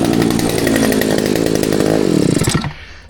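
A two-stroke engine like a chainsaw's runs loud and steady up close, then cuts out abruptly near the end, leaving quiet.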